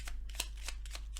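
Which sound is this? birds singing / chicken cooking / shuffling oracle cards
shuffling oracle cards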